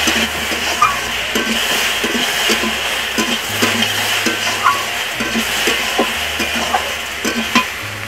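Chillies fry in hot oil in a pan over a high flame, a loud continuous sizzle with irregular stirring scrapes and clinks, with no voices.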